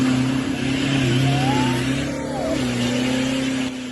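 A brand new BMW driven off-road through deep snow, its engine droning loud and close as it revs and bogs down under load, the pitch sagging and holding steady for several seconds.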